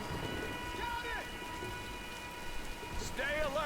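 Steady rain pours throughout a stormy scene in the 2013 Tomb Raider video game, with thunder rumbling low and a few faint voice-like sweeps rising near the end.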